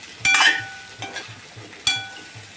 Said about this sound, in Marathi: आणि वांगी पण चांगली परतून घ्या तेलामध्ये